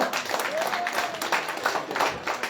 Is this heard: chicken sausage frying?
no